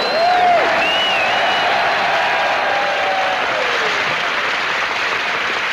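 Loud, sustained audience applause welcoming Joey Heatherton onto a comedy stage show, a dense steady roar of clapping with a few sharp whistles rising over it near the start and fading under the continuing ovation.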